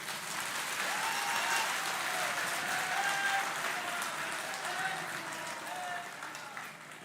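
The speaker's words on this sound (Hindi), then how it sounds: "गले को राइट करना है तो ताली बजा दीजिए।" An audience at a Hindu religious gathering at Pandokhar Sarkar Dham claps steadily together, a dense sustained wash of applause with faint voices and bits of music mixed beneath it.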